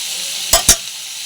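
Pumpkin and potato curry being stir-fried in a pan: two short, close scraping stirs with a brief sizzle, alone without talk.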